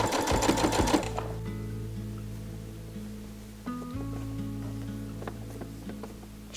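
A domestic sewing machine stitches a minky fabric pullover top in a steady mechanical whir, starting with a loud burst of rapid stitching that settles into a quieter running hum with brief pauses and restarts.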